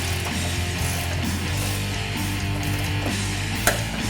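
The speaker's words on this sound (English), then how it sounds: "Now we're going to torque the motor mount to bracket bolt to the same 80 foot-pound." A torque wrench ratchets while tightening a motor mount to bracket bolt on a 2016-2018 Ford Focus RS, a steady run of close mechanical clicking with a sharp click near the end.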